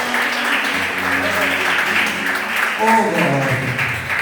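A church congregation claps in praise during a worship service, a dense, steady patter of applause heard under someone speaking over it.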